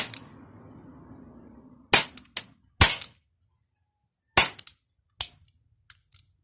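Gas blowback airsoft pistol fired at a target: a handful of sharp, loud cracking shots in irregular pairs and singles, each snapping off quickly into silence, with a brief soft rustle before the first shot.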